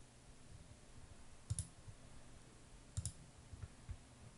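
Two sharp mouse clicks about a second and a half apart while importing a file into a 3D asset add-on, followed by a couple of softer clicks, all quiet over faint room hiss.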